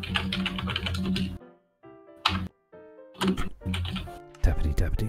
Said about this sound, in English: That's what angry typing sounds like.